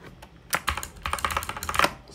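Typing on a computer keyboard in a Kali Linux terminal: a quick, uneven run of close, crisp key clicks lasting about two seconds, with no voices.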